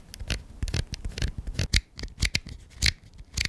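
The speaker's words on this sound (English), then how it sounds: "Back dial is pretty loud." Fujifilm X-T4 camera back dial being turned: a rapid, irregular series of crisp, close mechanical clicks, sharp and fairly loud, with no talking.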